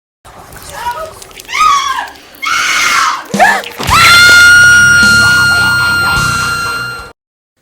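Halloween animatronic prop played back from a video, giving piercing, wavering electronic screams and yells in several bursts, then a long sustained shrieking, siren-like wail that holds loud for several seconds before cutting off abruptly.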